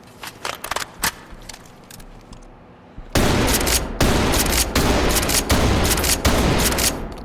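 A 590M shotgun fires slugs in Ready or Not with loud, close blasts. A few quieter shots come first, then a run of powerful booming shots about every half second with brief gaps between them.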